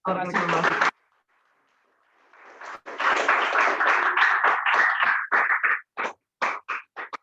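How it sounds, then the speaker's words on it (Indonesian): Applause from a seminar audience after a talk on the life and thought of Socrates, a dense burst of clapping lasting a few seconds, preceded and followed by a speaking voice. "Baik, tepuk tangan."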